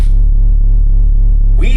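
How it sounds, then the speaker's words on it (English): A modular synthesizer's VCF output gives a loud, dark, low-pitched droning tone with a throbbing pulse and muffled highs, brightening briefly at the very end. "The VCF sounds like this."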